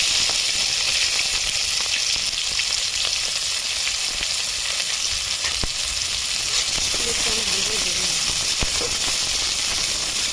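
Five-spice seeds and a bay leaf crackle in hot oil in a pan, a loud continuous sizzle with sharp pops and the scrape of stirring close up, and no talk.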